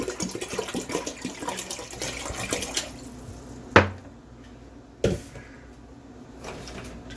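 A gallon of water poured into a big pot on the stove, splashing and filling with a steady broad rush for about three seconds, followed by a couple of sharp clanks of the pot and quieter handling.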